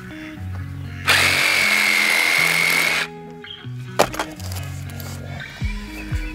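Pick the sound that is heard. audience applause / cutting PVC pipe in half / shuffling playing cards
cutting PVC pipe in half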